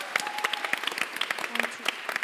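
An audience at a live science show claps for a presenter after an explosion demonstration, a brisk, dense patter of hands with individual claps standing out and a few voices underneath.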